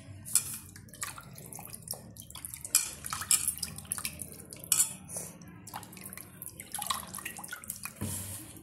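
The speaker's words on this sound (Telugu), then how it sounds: "ఇది నీళ్ళలో ఇలా కడిగేసుకోవాలండి" Boneless minced chicken being washed in a bowl of water: sloshing and dripping, soft splashes and occasional clinks of a dish, close by and fairly quiet.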